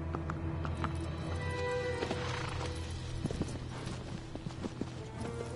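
Horse hooves clip-clopping at a run in the video game Shadow of the Colossus, a steady rhythmic patter of steps over a continuous game soundscape, with a brief whinny-like sound.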